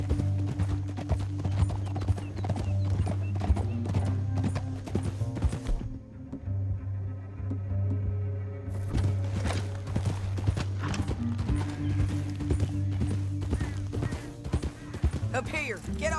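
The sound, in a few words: horse hooves clip-clopping while riding, Red Dead Redemption 2 video game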